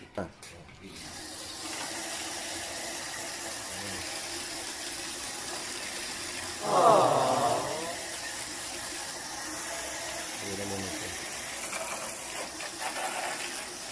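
Water poured onto a window-type aircon unit during cleaning, a brief splashing gush midway through a quiet stretch, with faint mechanical ticks and a second smaller splash later.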